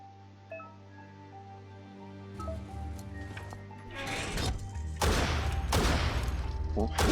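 A built-in gun fires in rapid bursts in the video game Biomutant, loud sharp volleys building up over game music and mechanical sounds.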